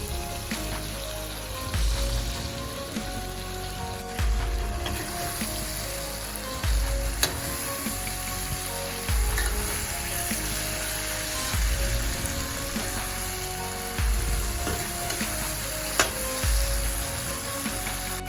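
Taro (arbi) curry cooking in a pan with oil, a continuous close sizzle and bubbling hiss with periodic low thumps and scraping from stirring, no talk.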